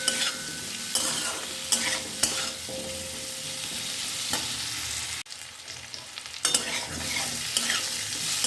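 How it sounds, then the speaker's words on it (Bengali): Pumpkin and capsicum curry frying in a pan, with steady close sizzling and repeated scraping stirs throughout, a brief dip in the middle before the sizzle resumes. "এটা ভাজা ভাজা হয়ে গেছে ভালোভাবে।"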